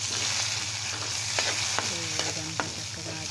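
Curry leaves, tempering seeds and urad dal frying in a teaspoon of oil for a tomato, mint and coriander chutney: a steady close sizzle with occasional spatter pops and a few stirring scrapes throughout.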